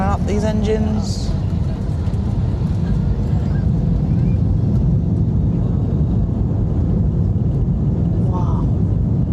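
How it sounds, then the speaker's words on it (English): Heard from inside the cabin, the engines of a British Airways Airbus A321 on the runway spool up into a loud, steady roar for takeoff, with brief talking at the start. "Firing up these engines."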